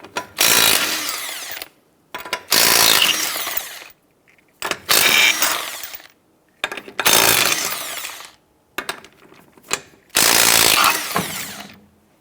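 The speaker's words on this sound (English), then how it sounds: "loosen and remove the lug nuts." A power impact tool with a 21mm socket loosens the lug nuts on the rear wheel of a 2008-2013 Nissan Rogue, heard as five loud, close bursts of whirring and hammering, each about a second or two long, separated by short silences.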